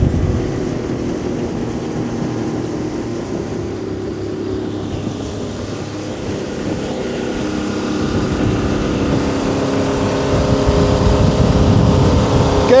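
A motorboat with a Tohatsu 50 HP outboard engine runs continuously, a loud, close engine drone mixed with rushing water that builds slightly in intensity over time.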